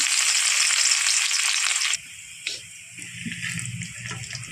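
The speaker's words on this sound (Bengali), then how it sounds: "তেলটা গরম হয়ে গেছে পেঁয়াজটা দিয়ে দেবো" Onion goes into hot oil with a loud, dense sizzle for about two seconds, which then drops to a quieter frying hiss under low background hum and faint clatter.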